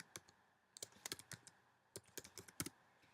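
Typing on a computer keyboard while entering a PowerPoint title slide: irregular bursts of crisp key clicks with brief pauses, close and fairly quiet, with no voices.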